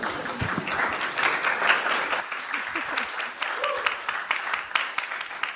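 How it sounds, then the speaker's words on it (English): Audience applause for a student panel at a FIRST Robotics Competition event, a steady roomful of clapping with a voice briefly heard over it near the middle. "can we do a round of applause"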